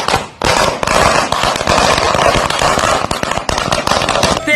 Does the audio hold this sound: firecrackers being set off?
yes